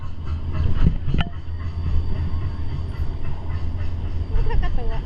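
A train passes at Hong Kong Disneyland with a continuous low rumble and rolling clatter, one brief squeal partway through, while people chatter nearby.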